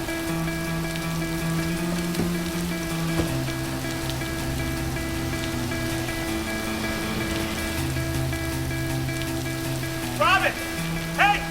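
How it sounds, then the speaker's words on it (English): Heavy rain pours steadily during a storm in Manhattan, a continuous dense hiss of drops with low tonal background sounds beneath it and a few brief sharp chirps near the end. "It's pouring."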